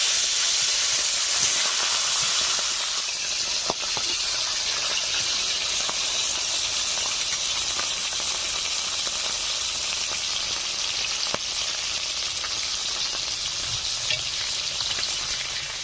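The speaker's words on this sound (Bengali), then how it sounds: "মাছের মাথাগুলো ভাজা হচ্ছে" Fish heads fry in hot mustard oil in a wok, giving a loud, continuous sizzle and hiss with occasional crackles and stirring scrapes close by, no voices.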